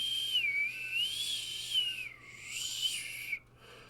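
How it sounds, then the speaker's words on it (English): An odd, not very high-pitched whistle that wavers, falling and rising in slow glides, sounding alone and fairly clear over a faint steady hum before cutting off abruptly near the end. "It's very odd whistling noise."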